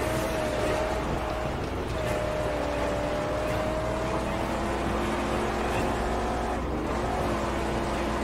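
A car accelerates along a track in the Mad Max video game, its engine holding a continuous loud drone with a steady rising tone throughout, dense and unbroken, with no clear talk over it.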